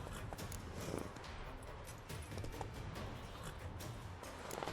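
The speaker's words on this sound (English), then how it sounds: "Get on the horse." A horse in The Witcher 3 gallops with steady, fairly faint hoofbeats in a continuous rhythm, with a soft game soundscape behind it.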